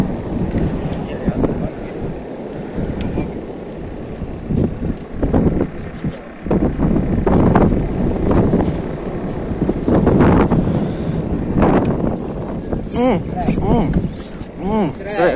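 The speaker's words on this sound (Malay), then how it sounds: "Angin nih." Wind blows steadily across the open sea over a small fishing boat during jigging, a continuous rushing roar buffeting the microphone, with voices talking over it.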